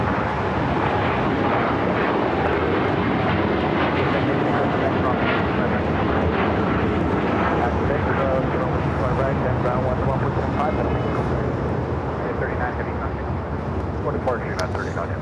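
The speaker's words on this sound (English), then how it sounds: "we got a United 787-10 Dreamliner taking off 25 right." A United Boeing 787-10 Dreamliner taking off from runway 25 right at LAX, a loud, continuous broadband jet roar that swells and holds throughout, with wind buffeting the microphone.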